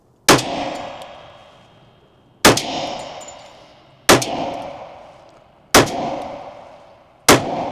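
Five loud, booming shots from a 10mm M&P pistol with a compensator firing 220 grain rounds at a target, spaced a second or two apart, each with a long ringing decay.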